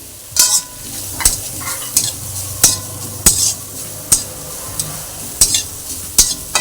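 Chopped carrots and beans stir-fried in a pan, a steady sizzle under sharp, regular scrapes and knocks of a spoon against the pan, about a dozen strokes, close and clear with no talk.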